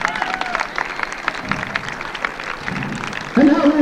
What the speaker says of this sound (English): please, one more applause for my strong and masculine guest